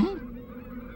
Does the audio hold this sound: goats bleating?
no